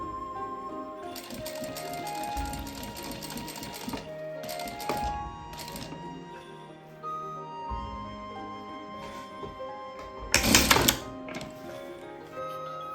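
A sewing machine runs a seam through kimono-fabric for a make-up pouch, going over it a second time, in bursts of steady mechanical stitching with brief pauses and a louder clattering burst near the end.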